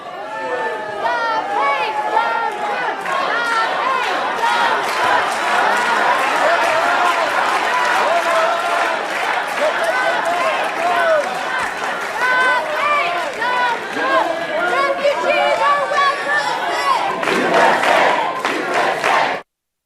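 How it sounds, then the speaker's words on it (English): A large crowd at a Trump event at the Faith and Freedom Coalition shouts and chants continuously, with many overlapping voices heckling and calling out USA, loud and dense throughout. "a big chant of USA right there"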